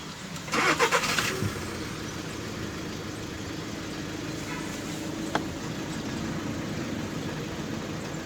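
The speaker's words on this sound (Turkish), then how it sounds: "Şimdi marşa basalım önce bir." A cold car engine with a DSG gearbox and faulty flywheel cranks with a brief burst of grinding, then catches and settles into a steady idle that runs to the end.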